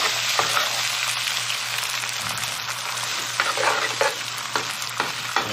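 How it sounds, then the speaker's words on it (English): Eggs sizzle and are stirred in a hot frying pan, a steady close frying hiss broken by soft scraping strokes, for a garlic fried rice with Spam and bacon; no one speaks. "So in the pan, we'll just scramble it."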